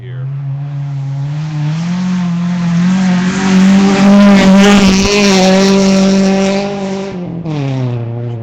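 Rally cars race past on a gravel special stage at the 2013 Sandblast Rally, one engine holding a loud, steady high-revving drone that swells as it passes close, then shifts pitch and fades away.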